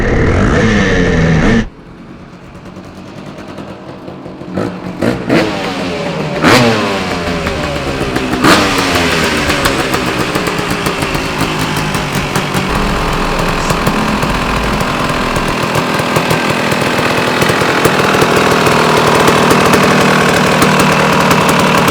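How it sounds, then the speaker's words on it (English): A KTM 300cc EXC two-stroke motorcycle engine runs loud and close, starting abruptly and then revving and holding a raspy, crackling drone throughout with no voices. "This is the first real engine test and it's passed with flying colours."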